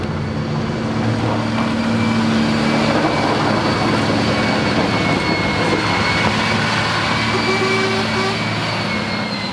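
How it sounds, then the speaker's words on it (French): A bus with a 10-litre turbo diesel engine climbing a hill, a loud, steady drone and rumble from inside the vehicle, constant throughout with a faint whine above it. "C'est trop bien à conduire un bus en vrai."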